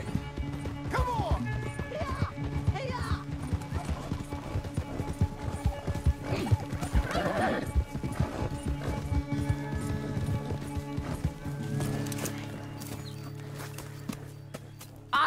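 Horses galloping in the video game Red Dead Redemption 2, a steady rapid clip-clop of hooves with a brief whinny, running continuously under game music and effects.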